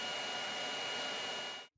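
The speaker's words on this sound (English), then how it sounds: "There's 3 fans that are permanently spinning while the printer is idle." Three cooling fans on an idle BIQU BX 3D printer spin with a steady, even broadband whir that holds at constant loudness throughout, then cuts off abruptly near the end.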